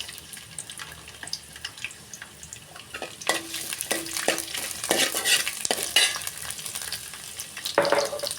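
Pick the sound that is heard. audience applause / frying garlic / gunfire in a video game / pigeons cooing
frying garlic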